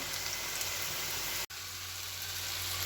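Panch phoron and a bay leaf temper in hot oil for a green jackfruit dish: a quiet, even sizzling hiss runs throughout over a low hum, broken by a single instant of silence midway.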